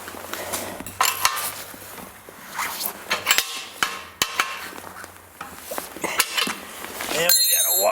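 A 17 millimeter bolt tightened on the rear shock of a vintage Honda CL100 motorcycle: irregular metallic clinks, taps and clanks, close and fairly loud, with brief pauses between them.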